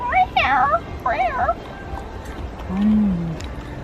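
A voice calls out in short, high, sing-song bursts, followed by a brief low meow-like sound, close and clear against background noise.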